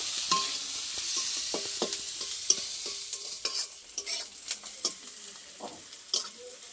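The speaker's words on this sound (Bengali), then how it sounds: "পেঁয়াজটা একটু ভালো করে লাল লাল করে ভেজে নেব।" Chopped onions fry in oil in a kadai, a steady soft sizzle broken by repeated scraping and knocking strokes as a spatula stirs them, several sharp clicks standing out near the end.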